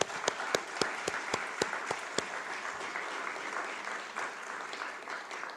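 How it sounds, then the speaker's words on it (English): Audience applause for conference panelists at a landscape-approaches event, starting with a few sharp distinct claps that quickly blend into a steady, moderately loud round of clapping from a seated crowd. "So give them a round of applause, please."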